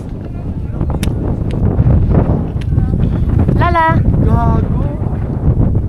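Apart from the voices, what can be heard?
strong wind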